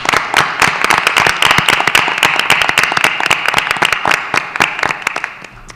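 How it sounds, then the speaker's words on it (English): Sustained applause at a school board meeting during a Board of Education budget hearing, dense hand clapping from a room full of people, steady and loud throughout with no talk over it. "Another round of applause."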